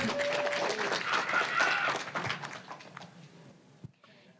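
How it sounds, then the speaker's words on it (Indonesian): An audience applauds at a literary gathering in Bandung. Moderately loud, scattered clapping and crowd noise fill the first few seconds before fading to near silence. "Boleh tepuk tangannya."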